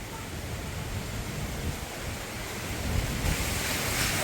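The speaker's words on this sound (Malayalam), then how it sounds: "നോക്കി എന്താ കാറ്റ് നോക്കി" Strong wind blows steadily outdoors in a rural Kerala yard, a continuous broadband roar with low rumbling gusts that swell slightly louder toward the end, with no voices over it.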